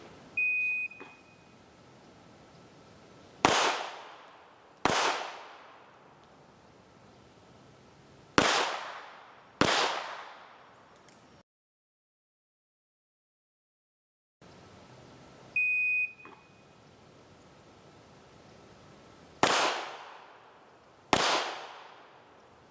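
Handgun shots fired on a pistol qualification course stage at an outdoor range, sharp loud reports in pairs and singles with a long pause midway, each with a ringing decay, a brief electronic beep before each string.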